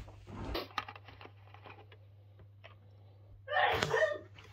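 A person sneezes once in a quiet room during an evening of study, a sharp loud burst near the end following faint earlier rustling.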